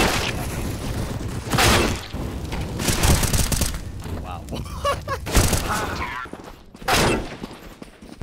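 Video game shooter gunfire sounds as several sharp bursts and booms spread across the stretch, loud and close, with voices talking over part of it.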